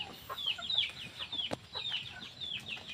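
Shamo and native chickens cluck and chirp steadily through feeding, a busy flock close by with repeated short calls overlapping, plus one sharp knock partway through.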